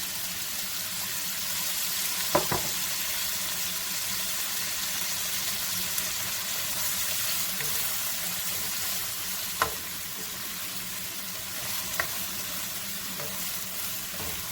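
Chopped red bell pepper and drained canned whole green beans sauté in a pan with a steady, close sizzle, broken by a few sharp clicks and taps of stirring.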